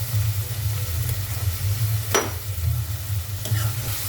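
Onion, tomato and garlic sauté in an oil-slicked pan for a garlic curry, a steady close sizzle with a low stirring rumble and a couple of sharp utensil scrapes against the pan.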